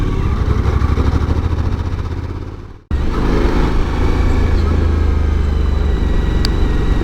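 A Suzuki V-Strom 1000 motorcycle engine while riding at around 4,000 rpm, a loud, close, steady drone with wind rush. It drops briefly to near silence, then returns just as loud and steady.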